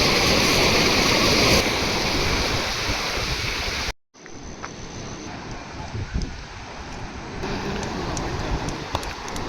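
Bhima river floodwater rushes over the submerged Daruwala bridge near Rajgurunagar, a dense steady roar of flowing water broken by a short gap midway, then continuing with wind buffeting the microphone; no one speaks.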